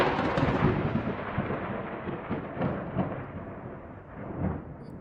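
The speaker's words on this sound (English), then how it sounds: "Or you can like put thunder." Thunder from a storm rolls in a loud, deep, continuous rumble, swelling and easing in a few waves over several seconds with no other sounds.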